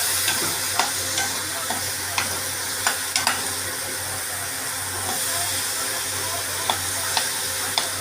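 Drumstick pods and potato curry sizzle in a pan while a spoon stirs, with a steady frying hiss and sharp scraping clicks at irregular intervals close by. No one speaks.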